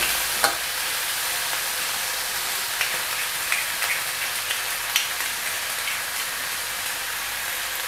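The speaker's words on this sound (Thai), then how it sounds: "รีบผัดอย่างว่องไวเลยนะครับ" Chinese kale stir-fried with oyster sauce in a wok makes a loud, continuous sizzle like heavy rain, with occasional sharp spatula knocks against the metal and no voices.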